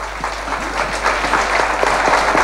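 An audience at an evening theatre-style talk applauds loudly and continuously, a dense, even wash of many hands clapping close by.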